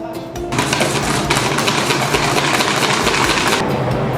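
A tiramisu mixture is whisked in a steady, loud mechanical whir that starts after a brief moment and then cuts off just before the end, with faint voices around it.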